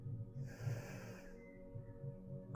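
A slow breath out through the nose during a calm mindfulness exercise, a soft close airy exhale lasting about a second, quiet and alone.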